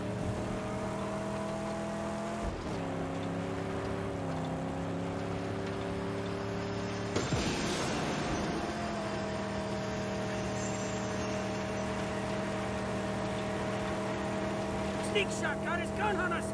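Car engine droning and shifting pitch while driving in the Mad Max video game, a steady game-engine hum with gear changes and a burst of noise, under continuous talk.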